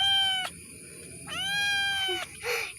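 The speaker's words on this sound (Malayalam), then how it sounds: "എൻ്റെ സുന്ദരി പൂച്ചക്കുഞ്ഞാണത്" A pet kitten meows up close, three drawn-out, tonal cries with short pauses between them, the last one shorter, over a faint background hum.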